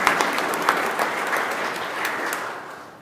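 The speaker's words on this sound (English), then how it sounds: "So let's give them all a round of applause," Round of applause for Yards of the Month winners at a city board of aldermen meeting, a moderate crowd of clapping hands with a few sharper claps, fading gently toward the close.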